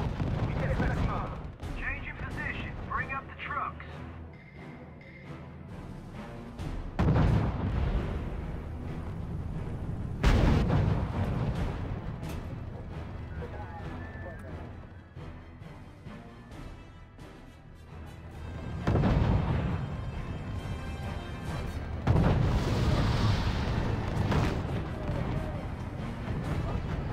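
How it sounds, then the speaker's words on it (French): Gunfire and artillery rumble through a battle in the strategy game R.U.S.E., booming blasts and crackling shots rising and falling across the scene while radio-style voices give orders. "Chef d'escouade, ouvrez le feu sur la cible."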